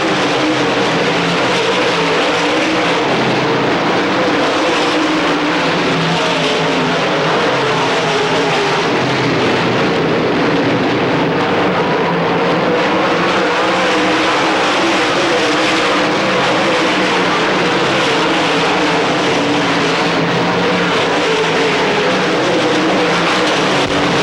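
Dirt track late model race cars roar around the oval during a 1995 feature race, a dense, continuous wash of engines and crowd-level noise with no clear breaks.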